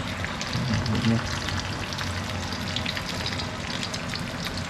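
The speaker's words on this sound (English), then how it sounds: "A little pinch of salt on the eggs and just let those cook." Eggs sizzling in oil in a pan with a pinch of salt while a Thai chicken basil dish is cooked, a constant close crackle with a brief swell of stirring early on.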